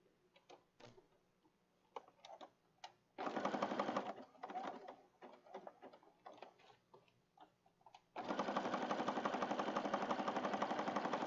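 A sewing machine stitches pages of a bluebonnet-themed junk journal in two loud, steady whirring runs, separated by quieter ticks, clicks and handling of the paper and machine.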